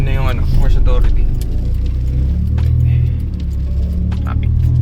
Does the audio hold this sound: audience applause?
no